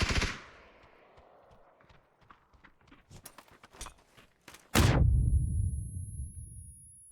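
Video game gunfire in a ranked match: a quick run of sharp single shots and short bursts rattles over faint footsteps, then one loud close blast with a booming low tail and a thin ringing tone.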